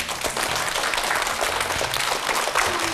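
An audience claps for a child, giving a steady, dense burst of applause that fills the space from start to finish with no voices over it.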